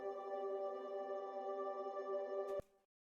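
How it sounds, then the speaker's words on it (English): Sustained guitar swell, a layered chord recorded long ago and played back dry without EQ, holding steady and full for over two seconds before a brief bright click and an abrupt cutoff. "Which is a guitar swell I recorded"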